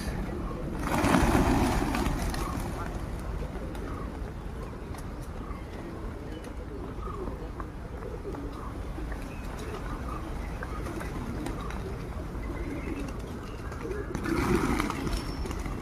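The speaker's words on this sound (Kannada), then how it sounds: "ಅದಕ್ಕಾಗಿ ದಿನ ಪಕ್ಷಿಗಳು ಬರ್ತವೆ ಇಲ್ಲಿ ತಿಂದು ಚೆನ್ನಾಗಿರ್ತವೆ" Pigeons flocking to be fed grain at Allalasandra Lake Park in Yelahanka, Bangalore, coo in a busy outdoor scene, low calls mixed with wingbeats and ambient noise, swelling briefly near the start and end.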